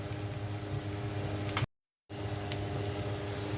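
Onion, garlic and green chilli sizzle as they fry in oil for tempering masoor dal. The crackle is steady and close, with a short silent gap midway.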